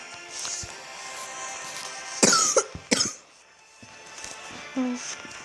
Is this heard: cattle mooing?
no